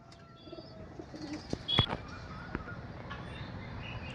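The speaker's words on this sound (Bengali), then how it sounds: "দেখুন কত বিগ সাইজের পায়রা" Large flying pigeons of an old breeding line, kept for sale, coo softly against steady low background noise, with a couple of sharp clicks in the middle.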